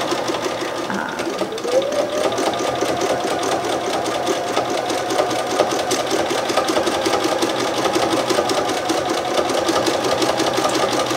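A sewing machine stitching steadily during free-motion machine quilting, its rapid needle clatter running loud and even, close up, throughout.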